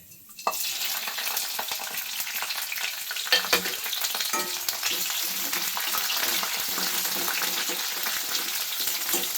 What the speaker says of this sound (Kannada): ಕ್ಯಾಪ್ಸಿಕಮ್ನ ಈ ಥರ ಫ್ರೈ ಮಾಡ್ಕೊಳಕ್ಕೆ ಹಾಕೊಳ್ಳಿ